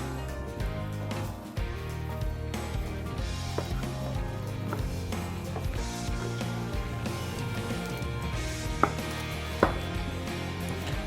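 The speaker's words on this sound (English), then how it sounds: "we're going to take off a beautiful tomahawk steak from the side here" A knife works along the rib bone of a Wagyu tomahawk steak, producing continuous close scraping and cutting sounds with irregular thuds and a couple of sharp knocks near the end.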